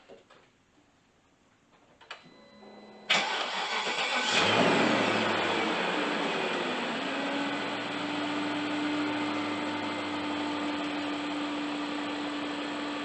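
A BMW 540i E39 V8, freshly repaired timing chain guides, cranks briefly after a few clicks, then catches and roars into a loud rev before settling into a steady, even idle, close by with no talking.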